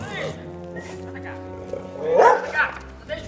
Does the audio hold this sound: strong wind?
no